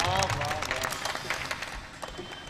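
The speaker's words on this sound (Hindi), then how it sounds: "ज़ोरदार तालियों से इनका" Audience applause at a mushaira poetry gathering, a brief burst of clapping from the crowd that is moderately faint, with some voices mixed in.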